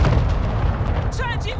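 A flashbang grenade goes off in Call of Duty: Modern Warfare II, a loud, close, booming blast with rumbling low end that fills the moment, followed by a brief high ringing tone and short voices.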